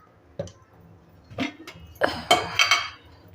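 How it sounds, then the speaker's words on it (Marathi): A metal wok clanks and knocks several times as it is set down on a stovetop, with irregular sharp kitchen clatter. "मी कढई ठेवले"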